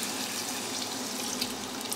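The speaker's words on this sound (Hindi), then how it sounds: "तो यहाँ डालेंगे पानी" Water poured into a pan of besan potato curry makes a steady rushing, splashing stream, close and even for its whole length, with no voices over it.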